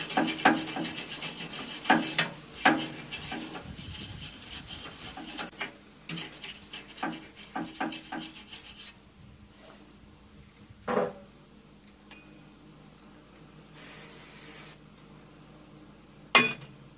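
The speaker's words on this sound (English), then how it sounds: "Clean that slag off there so you can get a good weld going." Scraping and brushing weld slag off steel while joining Vevor pallet forks to a dump bucket, a dry rasping scrub in uneven bursts with occasional sharp clinks, fairly close, then a few isolated scrapes after pauses.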